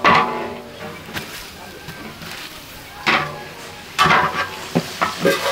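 Onions and masala frying for chicken and beef biryani at a biryani shop, sizzling in oil with stirring scrapes and louder bursts as the ingredients are turned, while people talk nearby.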